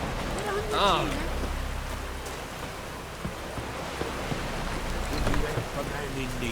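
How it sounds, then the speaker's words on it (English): Steady rain patters across the whole stretch in The Witcher 3 video game, with brief snatches of talk and a few faint thuds layered over the wet hiss. "It's raining."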